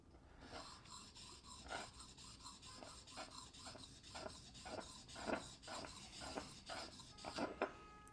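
A linocut carving tool is rubbed on a sharpening stone in a quiet room, giving repeated soft rasping strokes in a steady back-and-forth rhythm, close and faint.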